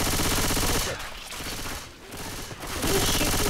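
Sustained gunfire from the video game Left 4 Dead 2, a loud dense barrage that dips briefly in the middle before surging back, with faint voices beneath.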